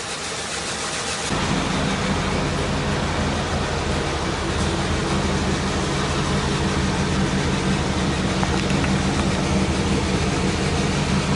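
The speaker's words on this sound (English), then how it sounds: "this engine runs so good and smooth" A Caprice or Buick car engine idles smoothly, a steady, loud, even drone that holds for the whole stretch with no variation or other sounds.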